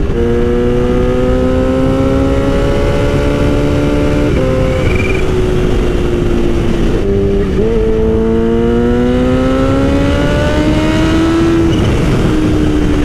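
Loud and close, a Kawasaki Ninja H2 sport bike pulls hard, engine pitch climbing steadily, dipping briefly at several gear changes, then rising again in long continuous surges.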